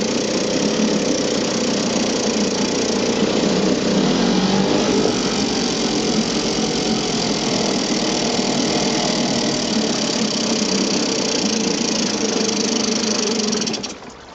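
A 1967–68 Yamaha P-35 3.5 hp outboard motor running cold, a loud, steady, slightly rough buzzing idle that continues close up for the whole stretch before easing off at the end.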